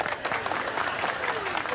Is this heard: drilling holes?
no